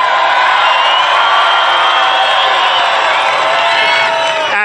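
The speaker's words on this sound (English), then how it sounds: "It's a great crowd." Large crowd at a Donald Trump political rally in Missoula, Montana, roaring and cheering in a steady, loud, unbroken wall of noise for several seconds, with whoops over the top.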